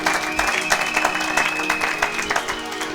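A church congregation claps in applause, a dense burst of many hands close by, mixed with a few voices calling out over the clapping.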